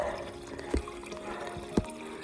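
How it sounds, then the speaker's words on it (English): Water runs from an outdoor tap during a trail run, a quiet, steady trickle broken by two brief knocks. "We'll just stop at this tap here for water."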